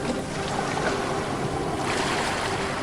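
Ocean surf rolls in and drains away in a continuous rushing wash, with a light breezy hiss over steady mid-level noise and no voices.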